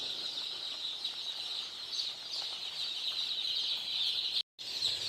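Young Sonali chickens in a brooding shed peep and cluck continuously in a bright, high chorus, moderately close and unbroken except for a brief dropout near the end.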